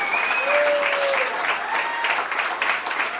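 A church congregation applauds loudly during a sermon, with dense clapping throughout and brief sung or whooping voices rising over it.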